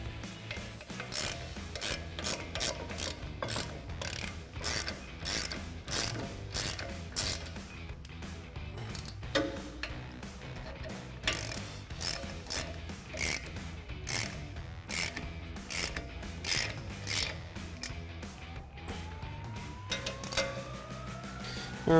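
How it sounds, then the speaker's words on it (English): Ratchet with an 18mm socket tightening brake hardware on a 2019-2023 Chevrolet Silverado 1500, giving a steady run of rasping, clicking strokes that go on throughout at moderate loudness with no talk. "we're going to use our 18mm socket on our ratchet"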